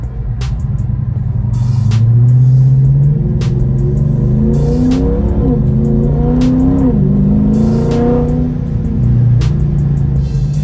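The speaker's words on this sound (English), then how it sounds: "That Mustang is so freaking loud." A loud Ford Mustang engine roars close by, revving up and down with a deep throaty rumble and a few sharp clicks, no talking.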